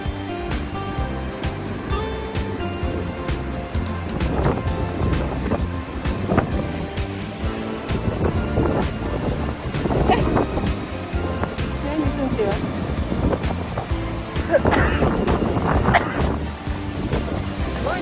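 Sea waves roll onto a coast in Itoshima on a very windy day, a loud, continuous rushing roar with heavy wind buffeting, while people talk close by over it.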